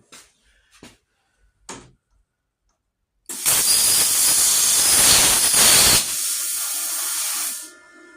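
Arccaptain Cut50 plasma cutter cutting metal: a few small clicks, then a loud, steady hissing roar of the arc for about three seconds, followed by a quieter continuous air hiss that trails off.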